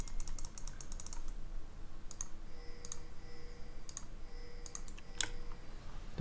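Loud keyboard and mouse clicking during a League of Legends session: quick bursts of close, sharp key taps and clicks, in irregular clusters with short gaps, no voices over them.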